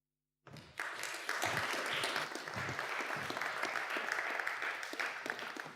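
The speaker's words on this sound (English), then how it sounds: "thank you for the applause" An audience at an Easter talk breaks into applause for a speaker. The clapping starts suddenly after a brief silence, then holds full and sustained with many hands at a steady level.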